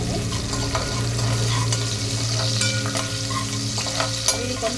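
Onion, dried red chili and garlic pieces fry in oil for a ridge gourd and moong dal curry, a dense close sizzle with scraping stirs and a low steady hum underneath, no voices.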